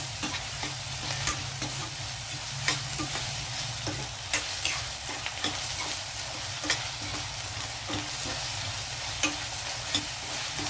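Ginger garlic paste fries in a pan for mutton curry, giving a continuous close sizzle with regular scraping taps of a spoon stirring throughout, and no one speaking.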